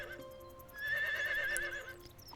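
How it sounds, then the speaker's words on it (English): A horse in the Harvest Moon game neighs once when summoned, a clear rising and wavering whinny that stands alone over quiet background music. "So here, we're going to summon our horse."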